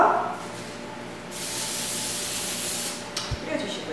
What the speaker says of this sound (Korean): 매끈하게 떨어지게 하기 위해서 이런 스프레이를 이용하셔서